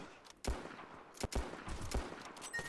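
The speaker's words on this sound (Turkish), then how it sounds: "Sniper bile tarıyor yani." Gunfire from sniper and other guns in the MiniRoyale 2 video game: several sharp, separate shots spaced irregularly over a couple of seconds, fairly close and crisp, with no talking.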